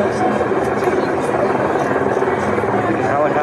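A helicopter passes over an outdoor live TV concert broadcast, a loud continuous rotor drone dominating the scene.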